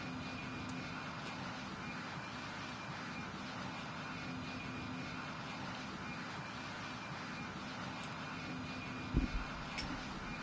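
An airplane flying in the Roblox flight game PTFS, a steady, even engine drone throughout with a faint thump near the end.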